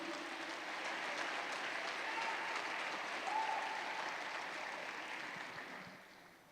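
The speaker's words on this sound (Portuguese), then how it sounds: "Você pode aplaudir mais forte, se for para Jesus." A church congregation, on its feet, applauds during a service, a continuous wash of clapping at moderate distance, swelling slightly midway, with a few voices rising over it.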